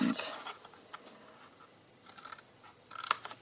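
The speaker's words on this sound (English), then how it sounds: "cut away the score line, cut away the score line and wedge" Scissors cutting away a score line on card for a papercraft box, heard as a few quiet snips and a sharper cut near the end, close and faint, with a voice present.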